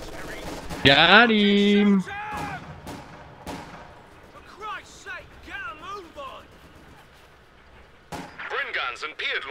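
Mortar and artillery blasts in a World War-style battle game, British against Germans, sharp distant thuds spaced through the scene among other battle noise, with a voice shouting over it.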